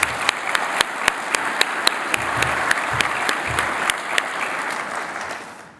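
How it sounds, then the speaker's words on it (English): A conference audience at a hotel ballroom in Denver applauds steadily, dense clapping filling the room with sharper individual claps popping out, the ovation continuing throughout and tapering slightly at the end. "Let's give a collective round of applause and appreciation for all of the wonderful Denver hospitality."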